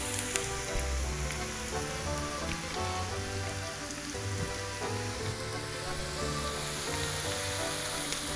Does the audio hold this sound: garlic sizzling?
yes